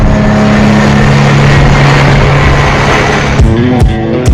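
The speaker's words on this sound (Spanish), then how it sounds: "Andre Konimishin conduce uno de estos gigantescos camiones" Giant 423-tonne copper mine haul truck with a 2,400-horsepower engine, its loud steady diesel drone droning low and constant throughout, with a few sharp mechanical clanks and bursts near the end.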